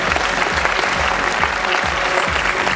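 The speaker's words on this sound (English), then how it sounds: "Let's have a bigger round of applause" Dense, steady applause fills an awards ceremony hall for a few seconds, a large audience clapping loudly and evenly with no pause.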